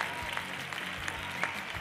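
Studio audience applause at a school spelling quiz show, steady dense clapping from a crowd, moderately loud and continuous for the whole stretch, with no voice over it.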